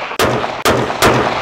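Three loud, sharp rifle gunshots, about half a second apart, ring out during an accuracy test firing damaged bullets downrange.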